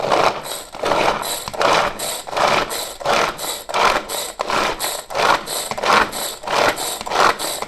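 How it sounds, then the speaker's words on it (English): A manual 900 ml food grinder chops food with a fast, steady run of repeated whirring strokes, close and fairly loud, with no talking. "the manual grinding starts now"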